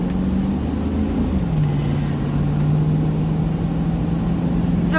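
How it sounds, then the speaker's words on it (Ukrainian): A loud truck drives just ahead on the road, heard from inside a following car as a steady, droning engine hum that dips slightly in pitch and then holds constant. "який вантажівка поперед мене дуже голосна"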